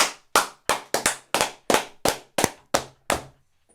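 A steady run of sharp, crisp hand claps rings out close and loud, each one snapping and decaying quickly before the next, with no talking between them.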